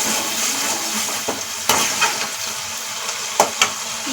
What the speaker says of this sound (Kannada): ಇವಾಗ ಹುಣಸೆ ರಸ ಹಾಕಿದ್ವಿ ಅದು ಹಾಕಿದ ನಂತರ ಎಲ್ಲದನ್ನು ಒಂದ್ಸಲ ಕಲಿಸ್ಕೊಡ್ವಿ